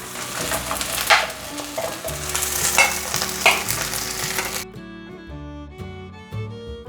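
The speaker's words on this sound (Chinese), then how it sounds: "再煎第2片。" A second vegetarian Taiwanese oyster omelette fries in a pan, sizzling loudly and steadily with spatula scrapes, then the frying cuts off and soft background music carries on alone.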